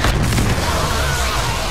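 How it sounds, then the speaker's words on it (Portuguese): A loud, sustained booming blast with rumbling low end fills the clip: an ion cannon detonation in Star Wars Battlefront II. "Canhão de íons pronto para detonação"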